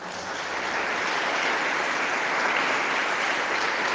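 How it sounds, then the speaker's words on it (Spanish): Sustained applause from an audience at a Catholic religious gathering, a dense, steady wash of many hands clapping that swells in over the first half second and holds evenly at moderate loudness, with no voices over it. "Le damos un aplauso a la Santísima Madre."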